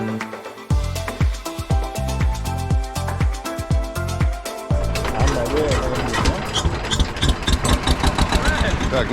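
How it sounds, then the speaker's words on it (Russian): A motorboat engine in Bangladesh turning over and catching, a few hard cranking bursts giving way to a steady, rough running rumble with churning noise, close by. "наша лодка завелась"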